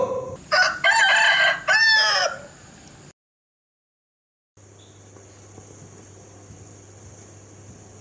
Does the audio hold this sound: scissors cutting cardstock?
no